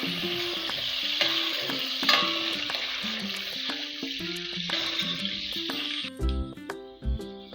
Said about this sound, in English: So in a pan, you're going to add your oil.